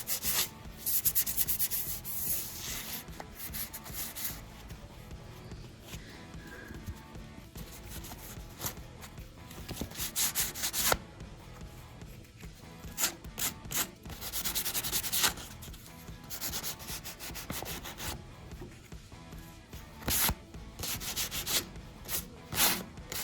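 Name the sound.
sanding wood filler spots with 220 grit sandpaper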